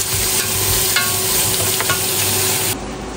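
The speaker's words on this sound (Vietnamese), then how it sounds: "Dầu sôi thì mình sẽ bỏ rau củ quả vào xào." Frozen mixed vegetables stir-fried in hot oil for Japanese chicken curry, a loud, steady, close sizzle with faint scraping as they are stirred, continuous throughout and without voices.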